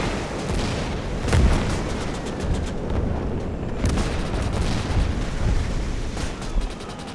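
Mortar fire in the Gates of Hell wartime strategy game, heard as repeated heavy booms and blasts at irregular intervals over a constant rumbling battlefield din.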